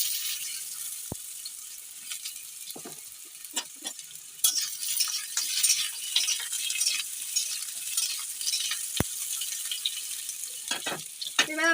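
Potatoes fry in hot oil after papads, a continuous bright sizzle with scattered crackles and occasional sharp metallic clinks from stirring, moderately close and without speech.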